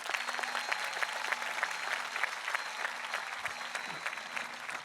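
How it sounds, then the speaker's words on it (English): An audience at a high school graduation ceremony claps for senior student speakers, a steady wash of many hands from a large crowd, moderately distant and even in level, sustained without a break and no talking over it. "One more round of applause for those guys."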